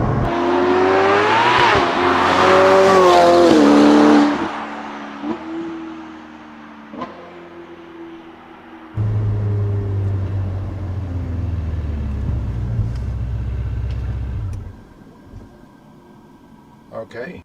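A Novitec-tuned Ferrari F8 Tributo accelerating hard, its engine climbing through revs in a loud, rising wail with quick upshift breaks, then settling into a lower rumble and road noise as it eases off.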